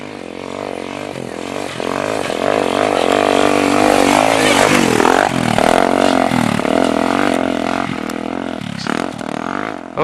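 A Suzuki DRZ 400 dirt bike rides past on a track. Its loud single-cylinder engine revs and shifts pitch continuously throughout, with the throttle rising and falling as it passes close by.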